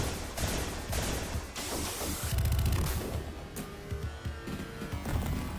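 Dense, busy Shinobi 3 game audio with rapid three-shot bursts of enemy gunfire layered over music and effects, loud and close.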